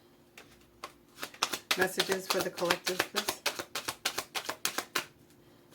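Tarot cards being shuffled by hand, a close, rapid run of crisp riffling flicks that build into a dense burst before tapering off, while someone speaks softly over them.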